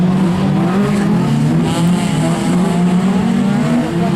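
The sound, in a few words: race cars, Citroën BX and Peugeot 206, racing downhill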